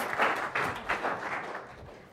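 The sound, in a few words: audience applause for Ebenezer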